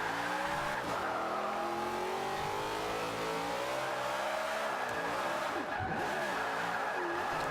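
A Chevrolet El Camino SS AWD drift build on a lap in Forza Horizon 5, its engine revving hard and steady throughout, with tire squeal and skidding layered over the continuous loud engine note.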